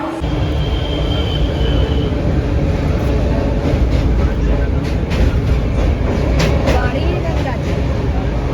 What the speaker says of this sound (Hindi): बस थोड़ी ही देर में ट्रेन हमारी आ जाती है